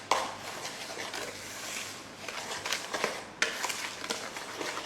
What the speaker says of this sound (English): So we just want to make sure that everything is mixed together.